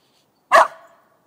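A dog gives a single sharp bark outdoors, close and clear, followed by silence.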